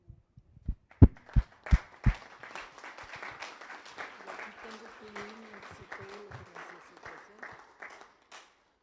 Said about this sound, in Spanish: La animamos con un aplauso.